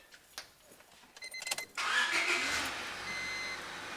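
A 1992–2000 Honda Civic engine cranks and catches after a fuel pump change, with faint clicks first, then a sudden steady broadband idle roar from about the two-second mark, close and loud.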